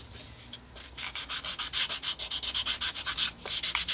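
Hand sanding of a cut chipboard arc for a circular drawer storage unit: quick, steady back-and-forth rasping strokes, about four per second, close and fairly loud, with no talking.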